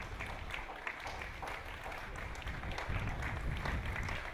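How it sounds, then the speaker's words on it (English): A football crowd at a Perth SC versus Stirling Lions match gives a minute's applause, steady dense clapping heard from a distance across the stadium, continuous and even throughout with no talk over it. "the crowd gave it a 1 minute applause for the Dylan Tombidis."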